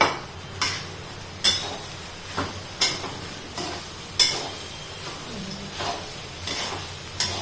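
Sago pearls are stirred and roasted in a large kadhai for sabudana khichdi, with a spatula scraping and tapping in regular strokes about every second over a soft background hiss.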